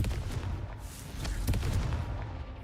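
Confringo blasting spell explosions in a Harry Potter video game: loud, dense bursts of booming crackle that overlap and roll on without a break, fierce from start to finish.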